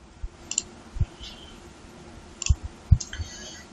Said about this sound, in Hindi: इस पे हमने क्लिक कर दिया।